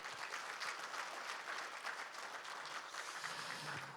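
Steady audience applause fills a Korean founding ceremony hall for the Liberation 100 Years national convention, dense even clapping sustained throughout with no voices over it.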